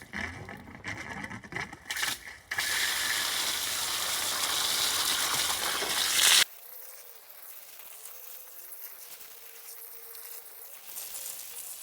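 Hose water gushing onto a freshly replanted Agapanthus (Lily of the Nile) in its pot, a steady loud hiss and splash for several seconds that cuts off abruptly into quiet background.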